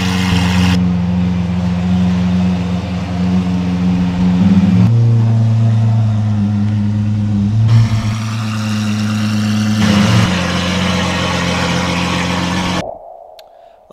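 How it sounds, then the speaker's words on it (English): A loud Lamborghini Aventador SVJ engine holds a steady roar as the car leaves, shifting through several revs in distinct stages before cutting off abruptly near the end. "The SVJ leaving sounded incredible."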